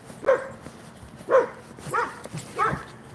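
Two dogs bark and whimper in four short, evenly spaced yips and whines over about three seconds, fairly close, with no talk over them.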